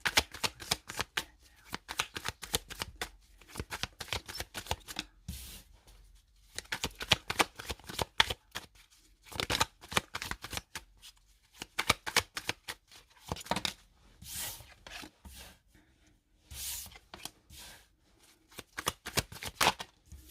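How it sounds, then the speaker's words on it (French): Oracle cards being shuffled for a tarot-style reading, a steady run of papery riffling bursts with short pauses between, close and clear with no talking. "On va mettre 4 cartes et une synthèse."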